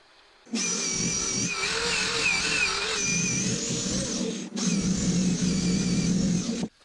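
A wood-turning piece made of Jdiction Resincrete is sanded, giving a steady, close whirring drone with a gritty abrasive hiss that runs continuously, briefly dips near the middle and then resumes before stopping.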